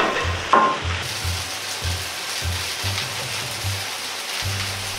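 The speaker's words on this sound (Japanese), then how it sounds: "混ぜ合わせるように炒め、鍋を振る。" Fried rice stir-fried in a wok, a continuous sizzle and crackle of oil with a rhythmic low thumping as the pan is shaken repeatedly, plus a brief clatter near the start.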